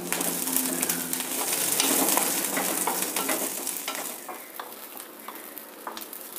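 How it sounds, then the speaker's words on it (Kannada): Garlic fries in about a teaspoon of oil in a pan, giving a steady close sizzle with soft stirring scrapes throughout and no talking. "ಈಗ 1 ಟೀ ಸ್ಪೂನಷ್ಟು ಎಣ್ಣೆ ಹಾಕಿ ಬೆಳ್ಳುಳ್ಳಿನ ಹುರ್ಕೊಳ್ತೀನಿ."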